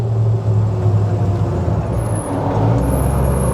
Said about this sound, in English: Little squeaks of the brakes.